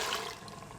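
Water poured into a pot of pinto beans for a vegan chorizo-spiced dish, a brief steady splashing pour heard up close with no talk.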